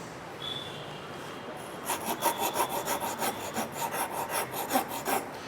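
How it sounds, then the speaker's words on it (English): Hand-cut German rasp filing wood for violin making, starting after a quiet moment with a quick run of rhythmic, close rasping strokes at an even pace. "this is a hand-cut rasp from Germany. So if I want to work this piece"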